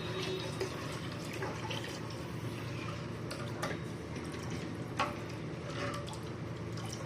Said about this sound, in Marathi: हे आपण पाणी अजून टाकायचं भरपूर पातळ करायचं